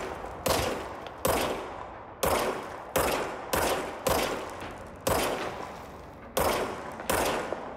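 Gunfire from the player's weapon in the video game Control: eight sharp, loud shots fired one at a time at irregular intervals, each with a short decaying tail, and no talking.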